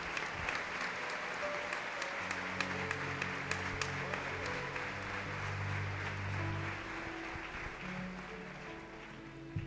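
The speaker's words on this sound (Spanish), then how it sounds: "Lo recibimos con un fuerte aplauso." Sustained audience applause fills a church gathering as a pastor is welcomed, steady and dense throughout, with music or voices faintly underneath.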